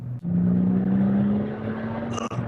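Tuned Porsche 996 Turbo pulling hard in third gear, a loud, close, steady engine drone rising slightly in pitch for about two seconds before cutting off abruptly with a whooshing release.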